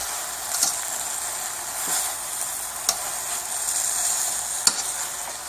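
Red bell peppers, snow peas, gai lan and other vegetables sauté in a pan with a soft, steady sizzle, broken by a few sharp clicks of a utensil against the pan.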